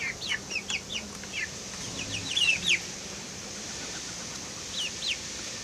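Soft, rapid clucking and high peeping from a broody hen and eight silkie chicks at a zoo, fairly quiet against a hushed background, coming in short bursts.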